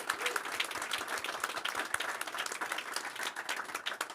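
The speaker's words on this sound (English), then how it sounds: "let's give them all a round of applause" Applause for event organizers at an AI-themed opening ceremony in Davos, a lively crowd clapping steadily throughout with crisp individual claps audible in the mix, fairly distant and moderately quiet.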